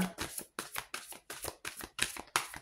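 Oracle cards being shuffled by hand, eight quick riffling bursts in a steady rhythm with short pauses between, close and clear, with no talking.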